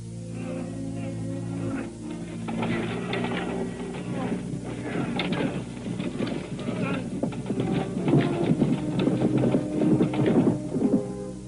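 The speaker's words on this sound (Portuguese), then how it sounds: "Desatrelem os cavalos e tirem daí." Horses pull a carriage in a dubbed Portuguese biblical film, their hooves making a steady, overlapping clip-clop with rattling harness and wheel noise. The sound is fairly close and continuous and grows busier toward the end, while voices talk over it.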